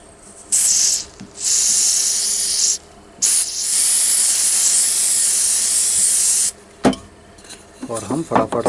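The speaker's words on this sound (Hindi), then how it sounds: "और दूसरे पीस के ऊपर हम स्प्रे करेंगे।" Fast adhesive glue activator sprays onto a workpiece in several loud, close, steady hissing bursts separated by short pauses, followed by brief handling noise at the end.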